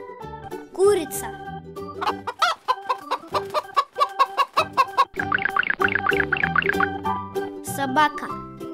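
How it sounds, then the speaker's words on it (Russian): Chicken clucking in a quick run of repeated clucks over bright children's music, loud and close, with a few playful effect sounds mixed in. "Курица."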